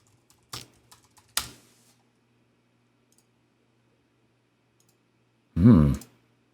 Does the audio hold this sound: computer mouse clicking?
yes